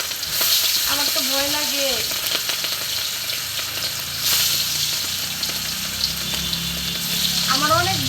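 Fish sizzles and spatters in hot oil, a loud, continuous frying hiss close by, while someone speaks over it in a couple of short bursts.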